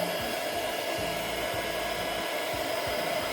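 Heat gun blowing hot air steadily on a Star Wars Black Series 3.75-inch action figure, a constant loud whooshing fan roar with no pauses throughout.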